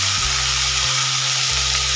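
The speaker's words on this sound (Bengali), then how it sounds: "আলু বরবটি একসাথে ভাজা ভাজা করে নেব।" Potatoes and yardlong beans fry together in a pan with a loud, steady sizzle, while a low mechanical hum shifts pitch in steps underneath.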